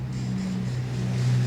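A two-stroke motorcycle engine in Ecuador drones steadily nearby, a low, buzzing hum that builds slightly toward the end, with no voices.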